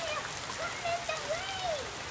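Steady rain hisses across the whole scene, a dense constant patter, while a voice speaks faintly over it.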